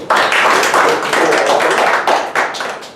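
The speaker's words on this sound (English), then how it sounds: "I think we all deserve another round of applause." Applause from the audience at a Toastmasters club meeting, a dense, steady round of clapping filling the room for about three seconds, close and loud, tapering slightly toward the end.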